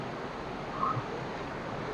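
Water seeping and trickling down between slippery rocks at Erattinpuram in Thiruvananthapuram, a soft, steady rushing wash with no break and no voices.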